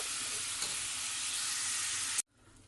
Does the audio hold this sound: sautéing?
yes